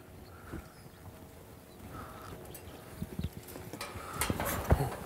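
A horse walks while being ridden near a fence and mounting block, its hooves clip-clopping in an uneven, moderately close rhythm, with faint background sounds and no talking.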